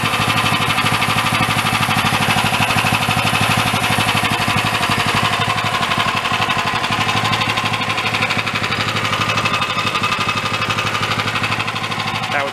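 A small dune buggy engine runs continuously at a rough, loud idle with a fast, even pulsing knock and mechanical rattle, close by and unbroken.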